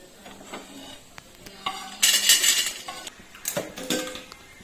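A spoon scrapes and clinks against a pan and plate as a cooked dry fruit mixture is moved out, with several sharp metallic scraping bursts and lighter taps between.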